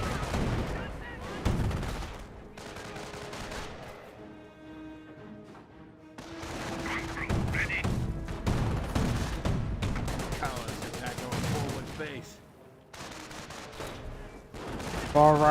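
Rattling machine-gun bursts and scattered rifle fire from a Company of Heroes battle, including an MG42, come in repeated volleys with pauses between them, and a voice talks over the combat.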